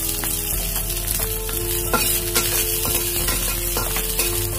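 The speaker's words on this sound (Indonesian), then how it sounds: "Panaskan wajan lagi, tuang sedikit minyak, lalu kita masukkan jahe dan daun brambang yang ini ya, yang bagian bonggol," Ginger and scallion bulbs fry in oil in a wok, making a dense, close sizzle broken by repeated scraping stir strokes in an uneven rhythm, with no talking.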